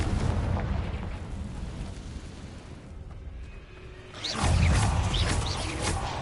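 Confringo blasting spell explosions in Hogwarts Legacy on PS5: a rumbling burst fades to a lull, then a heavier, louder boom erupts with crackling debris trailing after.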